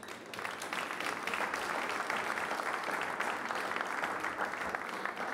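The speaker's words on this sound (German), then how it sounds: "Aber jetzt bitte mit einem großen Applaus unseren ersten Gast, Thomas Brechtel" Audience applause fills the whole stretch as a dense, steady clatter of clapping at a German public-transport conference, sustained and even from start to finish with no voices over it.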